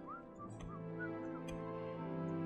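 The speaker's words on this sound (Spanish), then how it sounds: "Hay uno que silba ahí haciéndose el longis." A character in The Elder Scrolls III: Morrowind whistles a short, faint melodic tune of a few rising and falling notes over a steady game ambience, with no talking.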